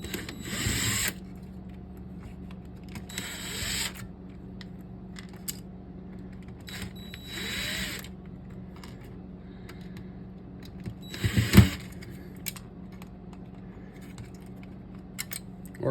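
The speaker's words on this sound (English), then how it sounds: "to remove the touchscreen, you're going to have 1, 2, 3, 4, like these 5 screws right here." Screws are removed from a 2012 Toyota touchscreen unit with a power screwdriver, several short close whirring bursts separated by quiet pauses, with small clicks and a sharp metallic knock near the end.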